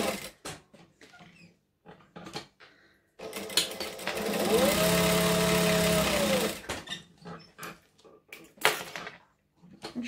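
Sewing machine chain stitching vinyl, a sustained close mechanical whir of a couple of seconds set among soft handling clicks and rustles before and after.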